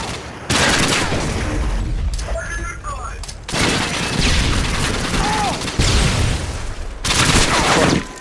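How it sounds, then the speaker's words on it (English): Gunfire and explosions from a Modern Warfare 2 Search and Destroy match on a trailer park map, with dense bursts of shots and booms separated by brief quieter gaps, loud and continuous. "Throwing a stun grenade."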